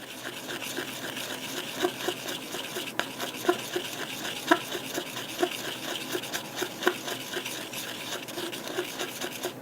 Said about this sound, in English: So I'm going to stir that up and see how I like it.